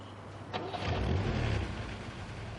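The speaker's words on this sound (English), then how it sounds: "When Steve heard the sound of a car starting, he felt it was safe to go to the window" A Ford Capri engine cranks and fires, then runs for a couple of seconds before easing back, heard at moderate distance and fairly quiet.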